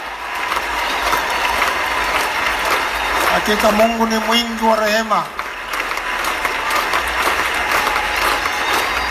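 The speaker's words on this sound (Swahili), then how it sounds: "Ongeza makofi kwa Kristo, ongeza makofi kwa Yesu Kristo, ongeza makofi kwa Roho Mtakatifu kwa kuona mwaka." A church congregation claps loudly and continuously during a sermon by a bishop, the applause running throughout as the preacher's voice rises over it midway.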